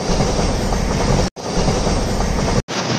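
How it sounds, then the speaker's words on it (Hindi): Train rolling past at the National Rail Museum in Delhi, a loud continuous rumble and rattle of wheels on track, broken by two brief near-silent gaps, with no voices. "ये वाली ट्रेनें तो आपने बहुत बार देखी होंगी रेलवे स्टेशन पर"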